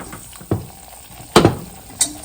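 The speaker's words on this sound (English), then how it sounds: "we're just going to whisk it around, cook it for a little bit, because you want to cook out that raw flour" A flour roux is whisked in a pan as it cooks, with soft sizzling under a few sharp scrapes and clinks of the whisk against the metal. It sounds close and fairly quiet, with no one talking.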